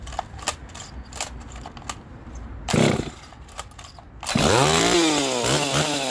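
A custom-built Stihl 026 chainsaw with a shortened fuel line sputters with a brief burst, then fires up and runs loud and close, revving with rising and falling engine pitch after scattered ticking and tapping.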